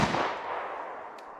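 A single pistol shot fired at a can during shooting practice, heard mostly as a loud bang that trails off into a fading echo.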